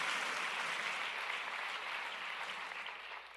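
A congregation at a church service applauds steadily, a dense wash of clapping that holds throughout and fades slightly toward the end.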